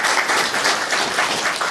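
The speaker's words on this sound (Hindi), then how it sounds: "ताली बजाइए इनके लिए।" An audience claps through the whole span during a spiritual talk and class session, a dense, steady, loud patter of many hands filling the room, with no one speaking over it.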